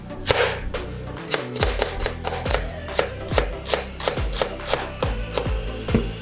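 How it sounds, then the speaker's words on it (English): A knife chops onion on a cutting board for charcoal spaghetti with mussels, with crisp, rapid strikes repeating at a steady brisk rhythm, close and loud, with no talking. "We're gonna chop the onion."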